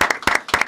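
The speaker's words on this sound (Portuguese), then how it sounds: "uma salva de palmas para Dela Cruz." A few people in a podcast studio clap for guest Dela Cruz, three quick bursts of close, sharp hand claps in under a second.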